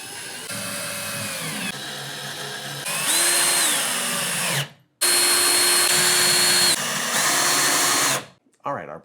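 A power drill drives drywall anchors into a wall while wall shelves are installed, whining in several sustained bursts that rise and fall in pitch, with a short pause near the middle and a brief stop before the end.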